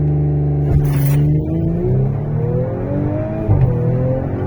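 A 2017 Audi S5 Sportback with 350 hp launching under launch control, the engine roaring loudly and climbing in pitch through quick gear changes, heard close from inside the car.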